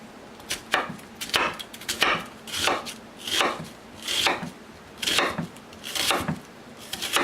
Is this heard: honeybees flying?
no